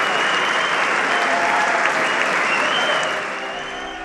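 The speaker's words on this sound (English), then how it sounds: "You weren't supposed to clap at that part." An audience applauds during a live political commentary show, a dense and steady wash of many hands clapping close by that thins out slightly near the end.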